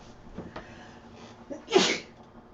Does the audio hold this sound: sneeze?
yes